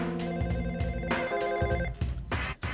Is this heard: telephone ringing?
yes